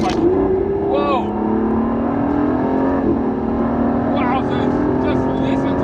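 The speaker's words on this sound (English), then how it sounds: "Just listen to that engine sing. That is 12 cylinders at full chat." Aston Martin DBS V12 at full throttle on the Jebel Hafeet mountain road, heard from inside as a loud, sustained engine note climbing steadily in pitch, with brief voices in the cabin over it.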